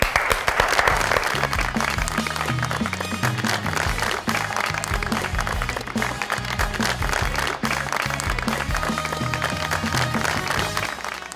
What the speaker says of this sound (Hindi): बहुत सारी तालियों में वेलकम कीजिएगा जी।